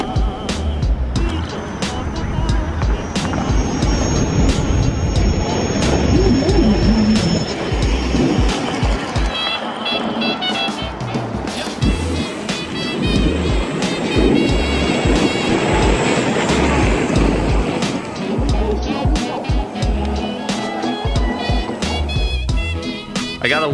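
Gotway and Kingsong electric unicycles brake from 40 km/h. Loud, continuous wind buffeting and rolling rumble are laced with rising and falling electric motor whine as the riders slow, with no talk.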